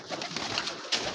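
Gola pigeons on a rooftop give a steady stream of soft cooing and fluttering, with two brighter, louder bursts toward the end; no voices.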